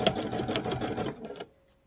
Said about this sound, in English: So we're doing it on a sewing machine, so it's a lot easier and faster.